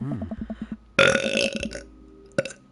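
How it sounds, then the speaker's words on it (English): A character burping in the dating sim Dream Daddy: a short rhythmic hiccup-like vocal pattern, then a loud, long, rough belch, followed after a pause by a smaller burp, close and alone. "Do I burp more than a normal person?"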